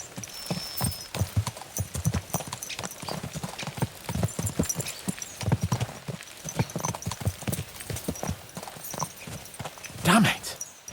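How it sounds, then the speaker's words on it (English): Horses' hooves clip-clop steadily in a rhythmic trot on a hard road in the medieval game Kingdom Come: Deliverance 2, close and continuous, with a brief snort or whinny near the end. "Let's really spur these horses on, eh?"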